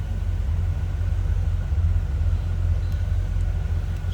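The 1966 Chevrolet Impala convertible's engine, fitted with an Edelbrock 4-barrel carburetor, idles with a steady, deep low rumble that stays close and even throughout, with no one talking.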